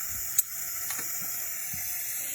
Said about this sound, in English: you'll know it's done because the steam will stop coming out of it as much